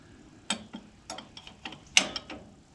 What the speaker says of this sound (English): we're just going to do it the old-fashioned way and use a wrench